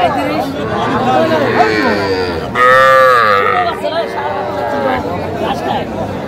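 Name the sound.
bull calves mooing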